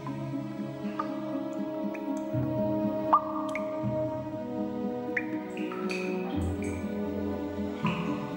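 Water drips from the roof of Postojna cave, a series of separate drops plinking at irregular intervals over a low, steady cavern hum, fairly close and clear with no voices.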